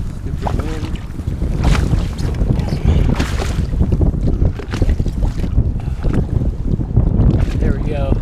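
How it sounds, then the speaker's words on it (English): Wind gusts buffet a fishing boat on Lake Champlain, a loud, continuous roar of microphone wind noise with rushing, churning bursts throughout, and a voice breaks in briefly. "Stupid wind."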